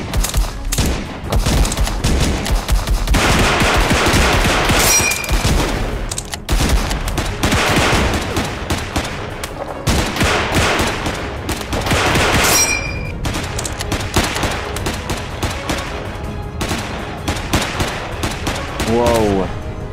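Rifle gunfire in a VR shooter game rings out as rapid bursts and single loud shots through a busy, loud mix, with someone talking at moments between the volleys.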